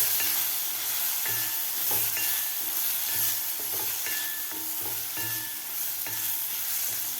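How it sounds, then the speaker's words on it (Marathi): Spices sizzle in a masala base in a pan, a steady frying hiss with repeated scraping stirs of a spoon at a fairly regular rhythm, close and moderately loud. "आता मसालेसुद्धा आपल्याला खालच्या मसाल्यामध्ये व्यवस्थित 1 मिनिटभर फ्राय करून घ्यायचे आहेत."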